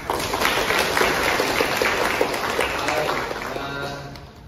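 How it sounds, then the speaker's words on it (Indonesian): A room of people at a lecturer training session claps together for a few seconds, steady applause that gradually tapers off toward the end. "Silakan beri tepuk tangan."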